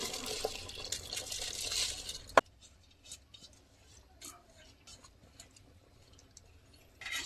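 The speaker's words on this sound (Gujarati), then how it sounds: "હવે આ ચોખા આપણે આમાં નાખી દઈશું." Drained rice goes into boiling water in a pressure cooker. A hissing boil is followed by a sharp splash as the grains drop in, then a quieter bubbling with faint clinks.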